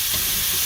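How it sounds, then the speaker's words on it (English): Shallots hitting hot oil in a pan give a brief, loud, broad sizzle that holds steady for under a second. "So you kind of want to hear that sizzle when it goes in"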